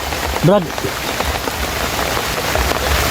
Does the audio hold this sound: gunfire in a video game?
no